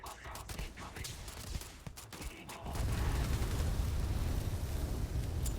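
Astra 19 sidearm pistol fired in Starfield, a string of sharp shots in the first half giving way to a dense, loud roaring burst of gunfire and impact noise that holds steady to the end.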